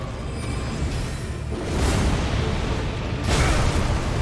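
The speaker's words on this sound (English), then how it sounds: "Alright, explosions." Rumbling explosions in the Elden Ring video game roll through a dense, steady noise bed, with two heavier bursts swelling about two seconds apart and then lingering.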